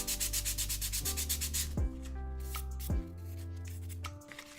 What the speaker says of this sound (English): let me sand down the bottom of this